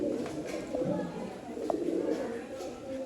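A Sialkoti pigeon coos softly in a low, steady murmur against a constant background hum, with a faint voice present.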